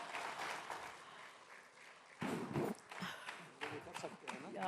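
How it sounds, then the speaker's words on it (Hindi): Audience clapping at the Ideas of India 2026 event, modest applause that swells into a louder burst midway, mixed with ongoing talk and stage noise. "जोरदार तालियां।"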